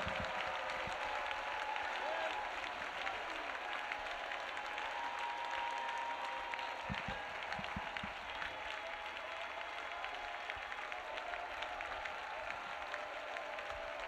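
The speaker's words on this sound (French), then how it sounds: "Acclamons Jésus-Christ. Let us clap for Jesus Christ." A church congregation claps steadily and continuously for Jesus Christ, the applause spread evenly across a large room at moderate distance.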